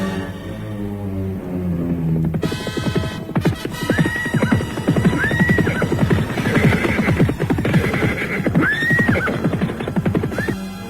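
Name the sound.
horses neighing and hooves of riders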